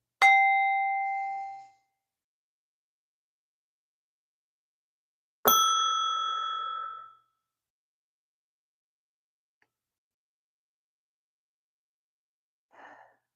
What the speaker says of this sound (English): we're going to ring the bell again to release it out